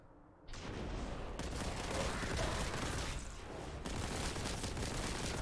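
Bolt gun fire in Warhammer 40k, a dense, sustained fusillade of rapid heavy shots that begins abruptly after a brief quiet lead-in and keeps hammering loudly throughout.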